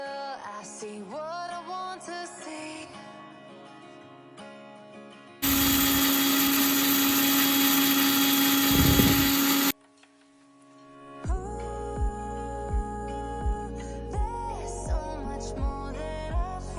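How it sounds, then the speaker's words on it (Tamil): An electric mixer grinder grinds roasted spices for idli podi, a loud, dense roar lasting about four seconds that stops abruptly. Music plays before and after it. "நல்லா ஆறின பிற்பாடு நம்ம வந்து மிக்சியில் போட்டு நம்ம அது அரைச்சி எடுத்துக்கலாம்."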